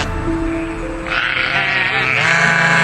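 A sheep in a cartoon gives a long, wavering bleat that rises partway through, loud and close, with no talk over it.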